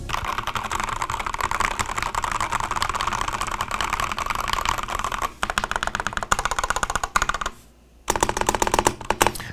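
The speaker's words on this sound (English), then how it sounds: "The keyboard's a little rattly, but the rest of the keys sound really good." Fast, steady typing on a K84 Peach Blossom keyboard with Gateron G Pro red switches, a slightly rattly board, runs close and loud with a brief break just past the midpoint and a short silence near the end.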